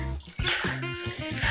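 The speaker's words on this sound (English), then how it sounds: "putting it through the water here," Cut cabbage being rinsed and washed in a basin of water for cooking, with splashing and sloshing close up, continuous over about a second and a half.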